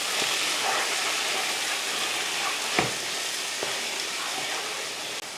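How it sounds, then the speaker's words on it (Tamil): Mint, coriander and yogurt sizzle and fry steadily in a pan, a continuous hissing sizzle with occasional soft stirring clicks, no talking. "இப்போ வதக்கி விட்டுறலாம்."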